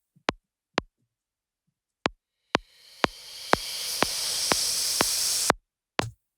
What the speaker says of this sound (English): for the riser, I'm going to take the same sample and just reverse it